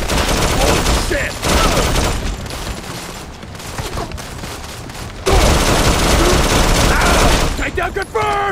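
Heavy gunfire from the mobile game Modern Combat 4, with loud sustained automatic bursts and scattered single shots over a battle din, broken by brief lulls, with shouted voices mixed in.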